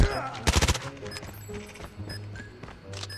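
Shotgun fire in a first-person shooter video game: a loud cluster of rapid blasts near the start, followed by quieter game effects and scattered tones.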